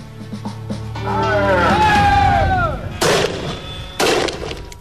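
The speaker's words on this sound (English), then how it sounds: "These are Stinger grenades. When they explode, 24 tiny rubber balls fire out to batter and bruise opponents into submission." Stinger rubber-ball grenades go off in loud, sharp blasts, one sustained roaring burst followed by two separate booms, with a whistling tone and voices faintly underneath.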